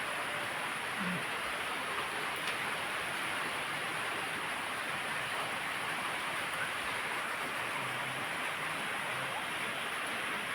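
Rain falls steadily outdoors, an unbroken even hiss of drops with no change in strength, a dense wash of sound with no voices.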